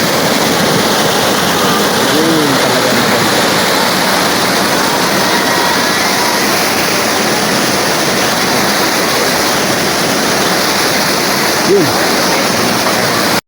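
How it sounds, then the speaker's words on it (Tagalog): Powerful rushing water at a swimming resort roars continuously close by, a dense, unbroken torrent with no pauses. "malakas ang tubig"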